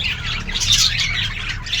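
Lovebirds squawk and chirp in a shrill, busy burst, close and loud, several birds calling over one another.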